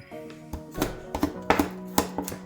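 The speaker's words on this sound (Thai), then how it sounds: "นี่ค่ะก่อนอื่นก็มาหั่นผัก" A knife chops cabbage on a cutting board in a home kitchen. The close, crisp thuds come in a fairly steady rhythm, about two or three a second, with no talking.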